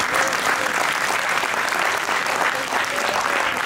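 An audience at a cultural fest claps together in dense, sustained applause, loud and even from start to finish.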